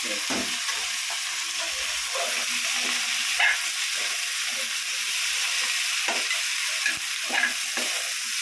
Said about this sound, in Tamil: முருங்கைக்காய் போடுறேன் முருங்கைக்காவை போடுறேன்